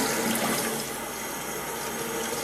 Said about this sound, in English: you just use your faucet and rinse all the water